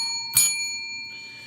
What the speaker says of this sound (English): Let's ring the bell, opening bell, everybody,